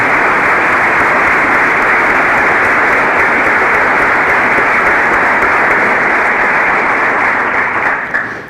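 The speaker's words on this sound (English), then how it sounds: "Applause would be appropriate." An audience at a 2014 State of the City address in Owasso applauds loudly and steadily, a thick, sustained clapping that holds strong before tapering off at the very end.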